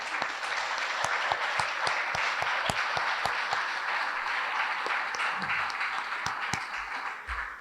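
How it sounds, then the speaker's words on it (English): Steady applause from a room of guests at a men's lacrosse awards breakfast, dense clapping sustained evenly throughout with sharper individual claps popping out. "Please give yourself a big round of applause and thank you."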